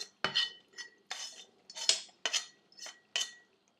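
Fried lardons tossed into a white cheese sauce with utensils, bringing a series of about eight sharp metallic clinks and scrapes against a pan, close and crisp with short pauses between them.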